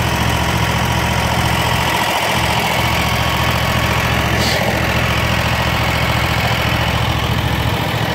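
A Kubota lawn mower engine idles steadily, a constant low mechanical hum and rumble close to the microphone, with a couple of faint low thumps and no talking.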